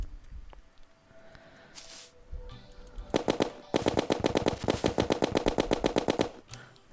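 A rapid-fire gun shooting in the video game Terraria, heard after a few quiet seconds as a burst of fast, evenly spaced shots, then a second, longer burst of quick repeated shots.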